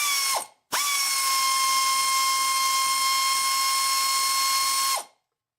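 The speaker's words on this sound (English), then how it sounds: "So we'll actually remove the front edge bolts." A power ratchet spinning out transmission pan bolts on a Dodge Dakota, a loud, close, high mechanical whir that starts briefly, stops, then runs steadily for about four seconds before winding down.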